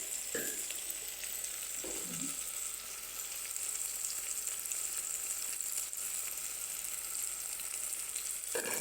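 Tomatoes and green chillies frying in a pan give a steady, quiet sizzle with a few brief clinks and stirring sounds near the start and end, and no voices.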